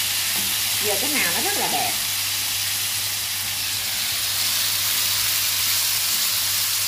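Tomato sauce cooks in a pan with a steady, loud sizzling hiss while it is stirred, and someone speaks briefly at the start.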